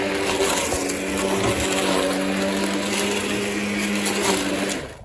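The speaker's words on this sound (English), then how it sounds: "I'm gonna pull the trigger right here." A cordless stick mower cutting grass gives a steady motor whine with a dense buzzing hum, running continuously, loud and close, then cutting off near the end.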